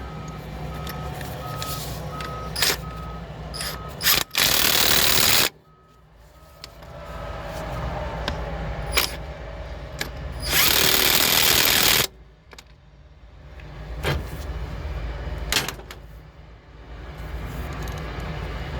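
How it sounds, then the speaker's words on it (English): A Caterpillar D8H dozer with a worn transmission and torque converter runs with a loud, rough mechanical drone, broken by two long bursts of harsh broadband noise and scattered sharp clanks. "you can hear some of these noises this thing's making and tell that it's got a lot of transmission torque converter wear"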